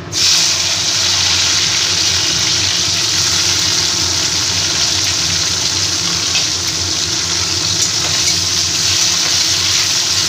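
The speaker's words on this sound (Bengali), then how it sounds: "এইভাবে আমি কেটে রেখেছি উচ্ছেগুলো এবার আমি ভেজে নেব।" Cut bitter gourd pieces fry in hot oil scented with bay leaf, a loud, close, unbroken sizzling hiss holding steady for the whole stretch without any voices.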